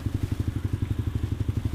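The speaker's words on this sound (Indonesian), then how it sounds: "gue suka banget soal tipe-tipe suara knalpot yang kayak gini, ngebas adem" A motorcycle exhaust idles with a deep, bassy tone, pulsing in a fast steady rhythm, loud and close, with no talk.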